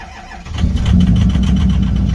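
A diesel truck engine with bad glow plugs or relay cranks briefly, then catches and settles into a loud, rough, steady idle close by.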